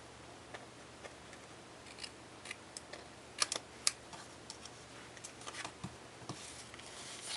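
Scissors snip through card paper while trimming edges of a handmade craft card, a series of small crisp cuts at an irregular pace, close and quiet with no talk.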